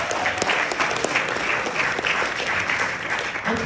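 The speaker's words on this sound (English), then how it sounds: "Round of applause." Dense, steady clapping from an audience of high school seniors at Hingham High School during a presentation, continuous and fairly close for a few seconds.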